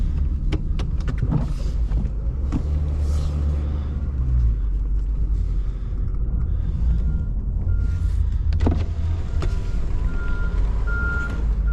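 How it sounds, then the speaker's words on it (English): Backup alarm on a truck being used to prep a snowbound Airbnb in blizzard conditions, giving faint repeating beeps over a steady low engine rumble. "You can hear my fancy new backup alarm."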